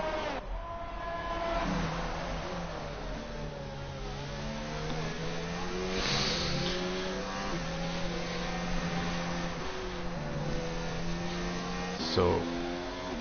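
Formula 1 cars race in F1 2019, engines revving and shifting with rising and falling tones through gear changes at a steady moderate level, while a commentator talks over them.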